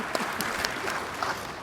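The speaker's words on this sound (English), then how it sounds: "I think it deserves another applause" Conference audience at a Rwanda case-study session gives a short burst of applause, fairly soft and diffuse, a few louder claps poking through the steady patter.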